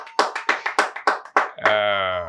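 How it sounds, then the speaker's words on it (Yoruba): Sparse applause on a Yoruba television quiz show, about seven quick, close hand claps, cut off by a steady electronic tone that rings on to the end. "ẹ bá mi pàtẹ́wọ́ fún wọn"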